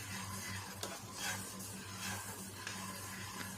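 Mutton biryani is stirred in a pot, a faint scraping and shuffling with soft clinks repeating at an even pace over a low steady hum.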